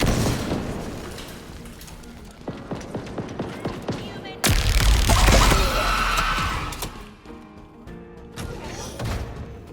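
A grenade goes off in Halo Infinite, a sudden loud, deep boom that swells and rumbles for a couple of seconds after a stretch of clattering game sounds and percussive music.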